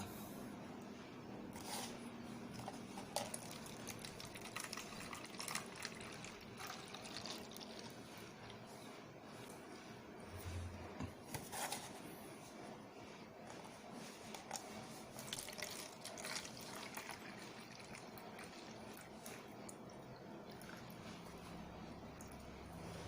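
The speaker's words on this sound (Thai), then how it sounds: "เราก็เทน้ำใส่แก้วประมาณ 3ส่วนนะครับ" Water runs steadily into a drinking glass for a color-changing flower experiment, a quiet continuous splashing and trickling stream lasting the whole stretch without speech.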